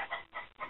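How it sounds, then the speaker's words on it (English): Backyard chickens and roosters cluck in three short, faint bursts at a moderate distance. "my chickens and roosters are going crazy"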